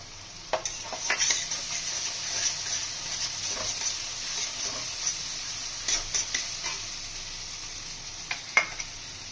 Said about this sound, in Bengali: জিরে গুঁড়ো ভালোভাবে কষিয়ে নেব কাঁচা লঙ্কাগুলো দিয়ে দেবো